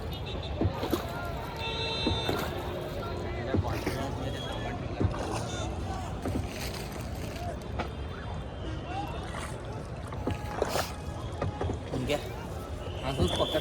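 Rowboat out on Dal Lake in Srinagar, with soft paddle splashes and water knocking against the hull, steady wind noise across the microphone and people talking close by.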